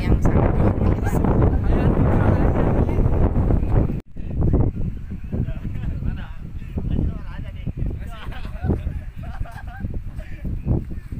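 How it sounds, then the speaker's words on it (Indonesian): Strong wind blows at a hilltop campsite while a tent is pitched, loud roaring gusts buffet the microphone, cut off briefly and then continuing in rougher bursts with faint voices beneath. "diterpa angin yang sangat luar biasa"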